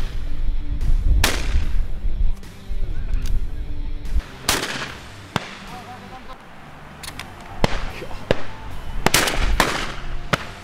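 Shotguns firing repeatedly on a white-winged dove hunt, loud close blasts at irregular intervals mixed with more distant shots, with voices talking in between.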